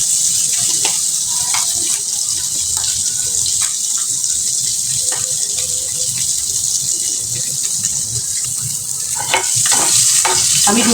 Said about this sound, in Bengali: এপিট ওপিট করে আমি মুচমুচা করে ভেজে নিব